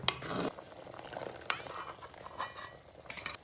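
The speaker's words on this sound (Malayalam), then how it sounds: "നമുക്കിതിനെ നന്നായി മിക്സ് ചെയ്തെടുക്കാം." A utensil stirring a pot of jackfruit-seed curry with buttermilk just poured in, giving soft scraping and occasional light clinks against the pot, close and alone.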